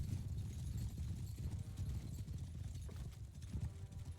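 Cavalry horses in Mount and Blade 2 Bannerlord move out together, a dense, continuous clatter of many hooves at a steady pace, fairly close and without a break.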